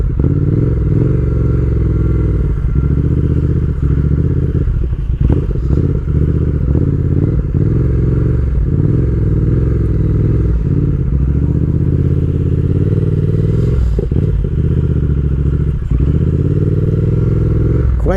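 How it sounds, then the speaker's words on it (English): A 2020 Triumph Speed Twin motorcycle rides through low-speed turns and maneuvers, its engine droning steadily and close with occasional thumps and clatter, no voices. "Quite nimble motorcycle, easy to turn."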